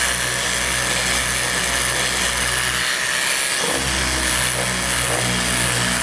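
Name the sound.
Festool sander sanding wood against the grain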